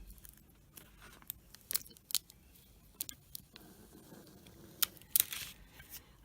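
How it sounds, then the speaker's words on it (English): A scraper rubs over self-adhesive vinyl and transfer tape is peeled back, giving scattered soft scrapes, crinkles and sharp ticking snaps, quiet and close with gaps of near silence. "I'm just going to burnish over again with the scraper and peel back the transfer tape."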